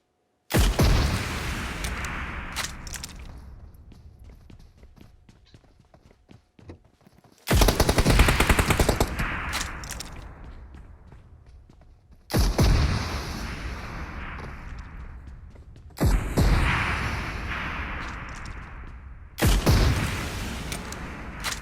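Bursts of automatic gunfire from PUBG Mobile, including heavy weapon fire, come in four or five loud volleys separated by decaying echoes and quieter gaps, with no talk over them.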